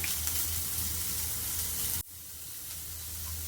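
Two small chopped onions, with a little salt, sizzle loudly in a pan as a steady hiss, then the sound drops sharply partway through and carries on more quietly.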